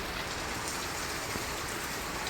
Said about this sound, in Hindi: कितनी तेज़ बारिश लग गई